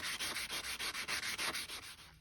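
Marine bronze clip hand-sanded in place with 320 grit sandpaper, a rapid, steady series of close, raspy back-and-forth strokes, about five per second, with no other sound.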